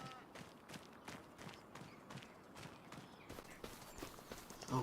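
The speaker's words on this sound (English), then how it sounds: "We gotta take care of our horses." Horse hooves clip-clop in a steady repeating rhythm in a farming video game, moderately close, with faint game ambience and occasional voice underneath.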